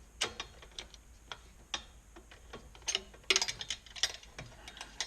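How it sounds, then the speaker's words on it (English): Socket and ratchet wrench working 13mm bolts on a KLR 650 motorcycle crash bar and subframe install, giving quiet, irregular ratcheting clicks in short bursts, fairly close. "socket and wrench."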